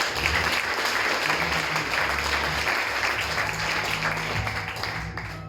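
An audience at a church service applauds in a steady, dense wash of clapping that holds evenly for several seconds before tapering off at the end.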